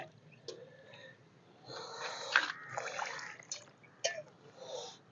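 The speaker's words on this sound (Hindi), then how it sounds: "अब इसको मैं भर के पानी दे देता हूं।" Roughly a litre of water, mixed with fungicide, is poured into a freshly repotted lemon plant's container. It makes a steady splashing gurgle that swells and fades over a few seconds, with soft handling noises and no speech.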